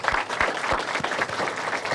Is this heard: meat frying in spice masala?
no